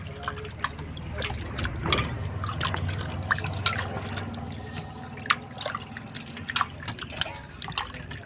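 Mutton washed in water in a bowl, with close sloshing, splashing and dripping sounds plus scattered sharp clicks and knocks throughout.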